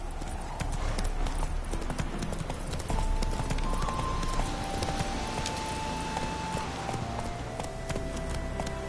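Horse hooves trot in The Witcher video game, a loud, rapid and steady clip-clop that runs throughout under sustained musical tones.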